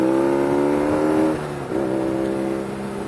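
A BMW R9T motorcycle engine revs hard under acceleration to overtake on the road, a loud steady drone that briefly dips as the pitch shifts, then climbs again, with wind rush around it.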